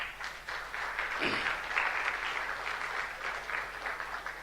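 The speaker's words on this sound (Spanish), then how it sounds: "Pido un aplauso para ellos." An audience at a medical-legal conference applauds: moderately distant, steady clapping that swells and holds for several seconds without any speech.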